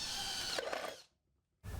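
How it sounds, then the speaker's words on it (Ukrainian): A power drill boring 6 mm holes into a jar lid whirs loudly and close for about a second, winds down into silence, then starts up again at the end. "Розмічаємо на кришці банки місце і свердлимо два отвори діаметром 6 мм по діаметру трубки."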